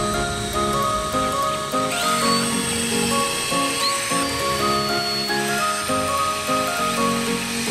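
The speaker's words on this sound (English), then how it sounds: "We're gonna drill out the holes for the flange." A power drill runs steadily and loudly, its motor whine holding a constant tone with faint metallic squeals as it cuts through metal.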